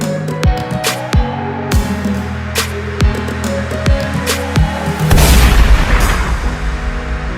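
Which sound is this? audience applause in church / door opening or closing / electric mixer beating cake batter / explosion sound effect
explosion sound effect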